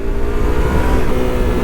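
A Yamaha R3 motorcycle with an upgraded race engine revs loud and close in a steady, throaty roar that holds for the whole short burst with no talk.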